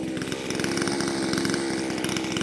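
An Echo 620 chainsaw revs hard and steadily up close, its loud buzzing engine note holding high and constant throughout with no pauses.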